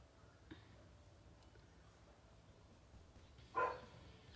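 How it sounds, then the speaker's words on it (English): A dog lets out one short bark in the background of a quiet indoor room, a single brief burst well into an otherwise near-silent stretch. "Stupid dog."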